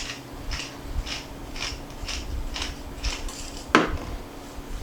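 Hands rub seasoning into a piece of beef, giving a series of soft, evenly spaced rasping strokes close by over a faint background hum, with one sharper scrape near the end.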